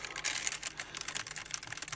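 Steady typing on a Logitech G915 keyboard with non-clicky switches: rapid, close key presses with a soft, muted rattle, continuous and uneven in rhythm, with no voices.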